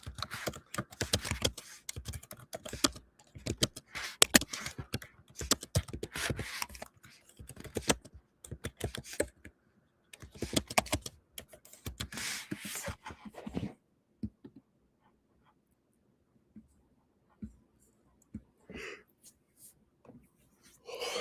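Rapid clattering keystrokes on a computer keyboard in quick irregular bursts for about fourteen seconds, then a near-silent stretch with only a few isolated taps.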